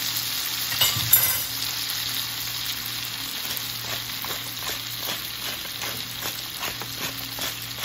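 A salmon fillet being grilled in a pan with salt, pepper and lemon pepper sizzles and fries steadily, with a constant crackling hiss and a brief louder spatter near the start, and no one speaking.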